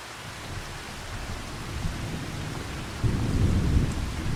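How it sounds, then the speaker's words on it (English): Steady rain hisses on a farm in Farming Simulator 25, and a deeper rumble of thunder swells near the end, with no voices. "Walter's not out here because it's raining"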